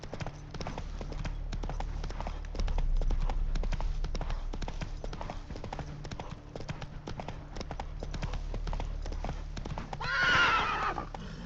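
Roach, the horse in The Witcher 3, galloping with a steady rapid clip-clop of hooves throughout, loud and close, ending in a sharp neigh near the close.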